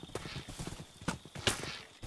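Minecraft horses walk with a quick series of hollow clip-clop hoof steps, close and fairly loud, alongside other faint game sounds.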